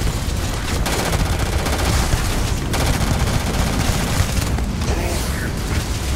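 Rapid gunfire from a strong gun in the space game Starfield, sustained loud bursts of shots running nearly continuously with brief gaps, close and dense.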